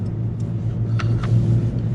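A Jeep Comanche rolling slowly through a car show, its engine a steady low rumble with a few faint clicks and knocks over the top, close and continuous.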